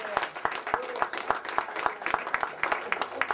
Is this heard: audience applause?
yes